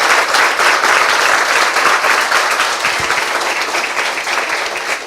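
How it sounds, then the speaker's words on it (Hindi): A Hindi-speaking church congregation gives loud, continuous applause during a sermon, a thick close roar of clapping that fills the whole moment without letting up. "Yes, come on, give a big hand for the Lord."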